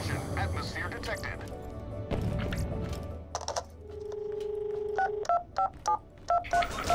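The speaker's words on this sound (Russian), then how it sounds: "Набирать мобильный номер." Mobile phone keypad in Borderlands: The Pre-Sequel, first some clicks and clatter, then a sustained tone and a quick series of short dialing beeps, with a voice speaking early on.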